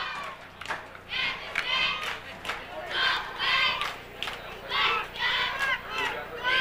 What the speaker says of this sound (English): that kind of wakes back up the MSJ crowd